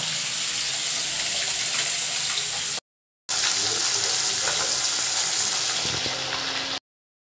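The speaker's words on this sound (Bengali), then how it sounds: "এখন চলছে মাছ ভাজা।" Fish frying in a pan gives a steady, loud hiss and crackle, close by, in two stretches with a short silent gap between them. No one speaks.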